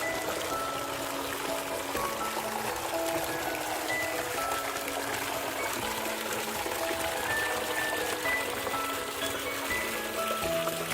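Spring water pours steadily from a stone cow-mouth spout in the courtyard of Keshavraj temple near Dapoli, a continuous close splashing trickle with faint background sounds and no talk.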